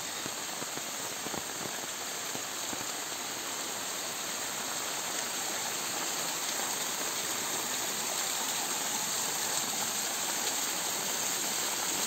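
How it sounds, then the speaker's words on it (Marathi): A small waterfall in the green Konkan hills gives off a steady, even rush of falling water, constant and unbroken, with no voices over it. "वॉटरफॉल।"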